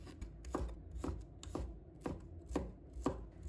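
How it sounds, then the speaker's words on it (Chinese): A knife slices through a handful of shallots on a cutting board, about seven crisp, evenly spaced chops close up, with no voices. "再准备1把红葱头，把它切成片"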